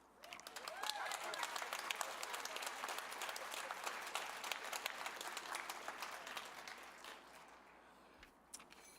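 An audience at a children's museum award event claps in steady, dense applause for several seconds before it tapers off.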